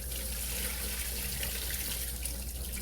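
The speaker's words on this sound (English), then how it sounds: "Just wash it off a little bit and then drain it." Tap water runs steadily into a sink as rice is rinsed for Spanish rice, a soft, constant, close hiss of flowing water alone.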